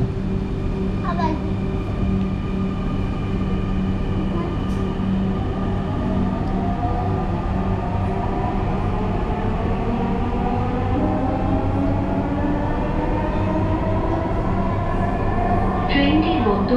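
A metro rail train bound for Uttara North runs at speed, producing a loud, steady rumble with rising and falling electric-motor whine that continues throughout without a break.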